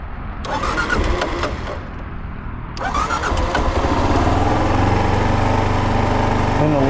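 Kawasaki KLR650 motorcycle engine cranking and catching, then settling into a steady, loud single-cylinder idle close by, with a brief pause in the starter noise before it fires.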